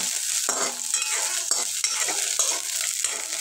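A vegetable mixture with fresh coriander and onion is stirred in a pan over a low gas flame, with a steady sizzle and a few soft scrapes of the spoon, close up and with no talking.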